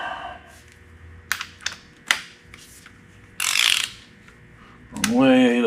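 A long-handled ratchet socket wrench clicks through several short bursts of turning in a workshop, with rapid pawl ratcheting close to the microphone, a louder sustained run near the end, and a voice briefly speaking at the finish.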